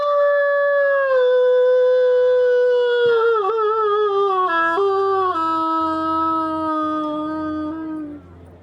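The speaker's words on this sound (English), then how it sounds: "the hound lifts its muzzle to the Relastran skies, and with a howl that cries out across the Solnor Ocean" A hound gives one long, loud, sustained howl close by, the wavering tone sliding gradually downward over about eight seconds before trailing off.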